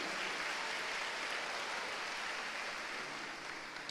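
A church congregation applauding, a dense, even wash of many hands clapping at a distance, sustained and fairly quiet with no voices standing out.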